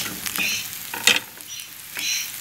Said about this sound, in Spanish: Lo vamos a seguir removiendo.